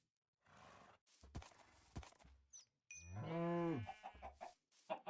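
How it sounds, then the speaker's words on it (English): Animal sounds in the Minecraft video game: short clucks and clicks, then a loud drawn-out lowing moo of a cow, followed by a few more brief clucking calls, all near and clear. "Another chicken."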